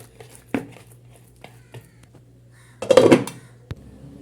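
A lid clatters down onto a bowl of oiled, kneaded dough in a home kitchen: one sharp knock, a few light taps, then a brief rattling clank, close and alone.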